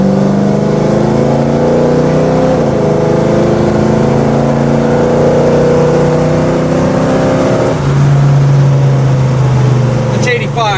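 1970 Chevrolet Chevelle SS engine, a steady loud rumbling idle with rising and shifting harmonic tones, then a deeper sustained revving note near the end, close by.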